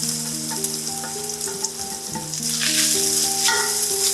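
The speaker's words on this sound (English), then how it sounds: "Have patience and lovingly fry your coconut." Grated coconut frying in oil in a pan on the stovetop, giving a steady bright sizzle with crackling that swells louder toward the end, alone with no talk.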